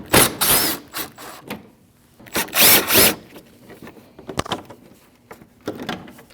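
Power tool whirring in short loud bursts while removing 8 mm bolts near the strut and wheel liner of a 2014-2023 Jeep Cherokee 2.4L, with quieter clicks and clatter between bursts, close, no talk.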